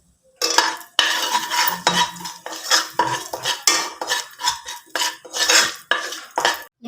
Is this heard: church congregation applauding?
no